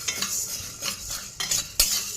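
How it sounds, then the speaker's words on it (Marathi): A spoon scrapes and stirs against an iron wok in a few uneven strokes, dry sago grains rustling and clinking close by as they roast, with no voices. "आता मस्तपैकी साबुदाणा थोडासा फुलेपर्यंत भाजून घ्यायचा"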